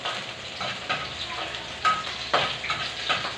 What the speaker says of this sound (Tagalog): Itoin na natin bawang bango-bango.